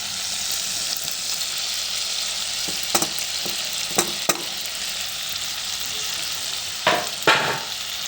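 Tomatoes drop into a pan of ivy gourd and potato curry frying in oil: a steady sizzle throughout, broken by a few sharp clatters and splashy bursts as the pieces go in and are stirred.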